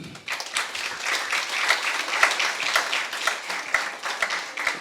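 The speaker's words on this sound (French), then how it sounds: "Je vous prie de bien vouloir applaudir pour eux" An audience at a Lions Club governor's visit applauds steadily, a close wash of many hands clapping that carries on evenly from start to finish with no speech over it.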